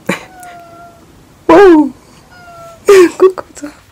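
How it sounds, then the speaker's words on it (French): A small cat meows loudly and close by, two drawn-out cries separated by a pause, with a faint background tone and no talking. "Un petit chat."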